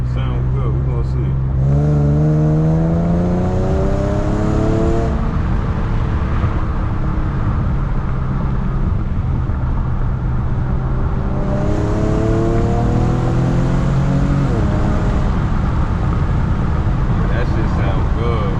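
Infiniti G37 fitted with a 1320 Y pipe exhaust, driving: a deep engine note rising through two long acceleration pulls with a lull between, loud and close, with some talk over it.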